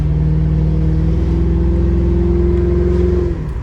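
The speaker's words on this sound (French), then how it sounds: "rien que le son de la voiture c'est hyper agréable" A Toyota Crown with part of its exhaust missing, driven slowly at about 30-40 km/h on a busy road in Switzerland, gives a steady, close, throaty engine drone that holds evenly before easing off near the end.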